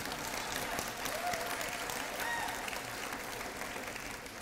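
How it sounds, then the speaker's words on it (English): An audience at a talk by a minister gives sustained, even applause: a dense wash of many hands clapping at moderate distance, continuous throughout without speech over it. "you're clapping"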